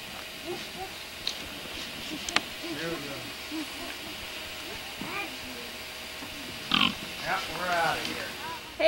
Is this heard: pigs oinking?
yes